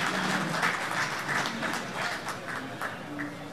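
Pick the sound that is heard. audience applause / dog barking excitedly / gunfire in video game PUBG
audience applause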